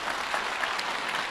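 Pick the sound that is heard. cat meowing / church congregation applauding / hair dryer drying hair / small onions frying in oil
church congregation applauding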